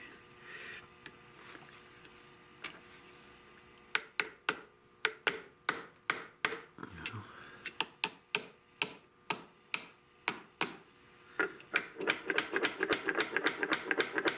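A brass hammer taps metal on an old Essex double gun under restoration, first a few scattered strikes, then a long run of sharp, evenly spaced taps that speed into a quick burst near the end.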